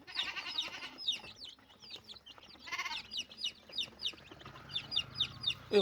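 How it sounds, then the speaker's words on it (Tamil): Small native chicken chicks cheep in high, rapid chirps, with a few hen-like clucks mixed in, close by and fairly quiet. "இதெல்லாம் நாட்டு கோழி குஞ்சு."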